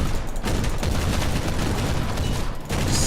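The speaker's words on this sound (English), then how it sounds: "God, the suppressing fire there was intense, man." Heavy, sustained suppressing gunfire from Warhammer 40,000: Inquisitor - Martyr, a dense continuous barrage of rapid shots filling the whole stretch, loud and close with no speech over it.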